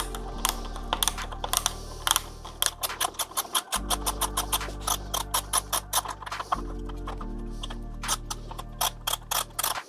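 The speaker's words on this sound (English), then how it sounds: "by just undoing this screw in the middle." The middle screw on the crank of a Bosch Smart System electric mountain bike being undone, a close, rapid series of sharp ratcheting clicks over a low steady hum, pausing briefly twice.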